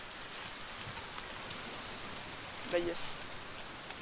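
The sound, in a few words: rain falling at night in the video game The Forest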